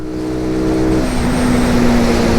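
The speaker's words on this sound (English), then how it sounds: "take it up to red line, third gear, grab another one" A SYM NH-X 125 scooter engine revs hard through the gears, a loud steady drone that climbs in pitch and then jumps to a new steady note as it reaches a higher gear, continuing strongly to the end.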